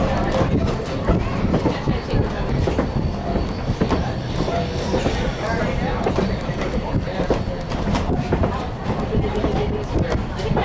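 A Strasburg Railroad passenger train rumbles steadily along its tracks with continuous clattering and rolling noise, heard from aboard over a moderate, constant din, with a faint squeal and a murmur of voices.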